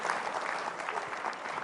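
An audience at a leadership sermon gives a short burst of steady applause, many hands clapping at once in a dense, even wash that stays level throughout.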